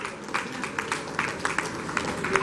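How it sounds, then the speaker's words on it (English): A meeting audience breaks into steady, moderately distant applause of many hands clapping in appreciation, a continuous patter with no voices over it. "As we clap for them"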